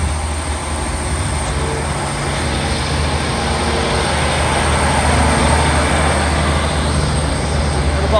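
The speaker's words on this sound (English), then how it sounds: "Departing now is 156480, working a service to Whitehaven" Class 156 diesel unit 156480 pulls out of Carlisle station on a service to Whitehaven, a loud, steady engine drone and rumble that holds throughout, close by with no pauses.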